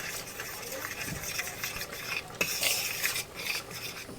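A spoon scrapes and swishes through cake batter of dry ingredients, baking powder and milk in a bowl, with a soft, uneven rhythm of light clinks and rubbing strokes.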